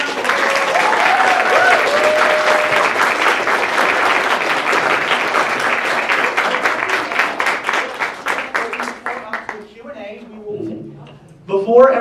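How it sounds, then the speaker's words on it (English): Audience applause at a film premiere: a loud, dense round of clapping with a few cheers that thins into scattered claps and fades, and voices come in near the end. "let's give everyone a big round of applause"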